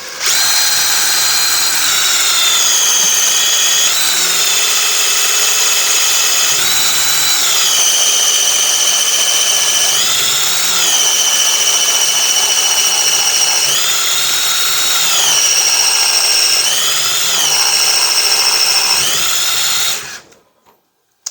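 A power drill spins the hydro transmission of a John Deere Z920m mower, a loud, steady high whine lasting about twenty seconds with slight pitch shifts, then cutting off abruptly.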